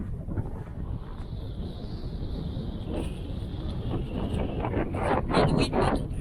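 Wind on open Dartmoor moorland near Merrivale, a steady broadband rush buffeting the microphone throughout, swelling into stronger gusts toward the end with no talking.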